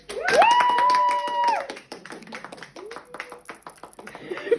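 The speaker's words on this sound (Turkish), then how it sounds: "Alkış." A group of people clap after singing a birthday song at a home celebration, a brief sustained tonal sound at the start giving way to scattered, uneven claps mixed with voices and laughter.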